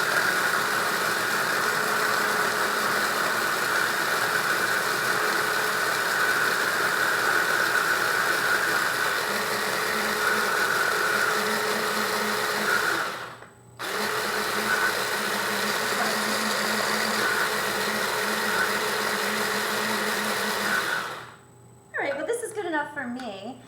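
A small kitchen grinder or blender whirs steadily as it grinds dry rice into powder for homemade baby cereal, running loud and continuous with a brief stop midway and a cutoff near the end.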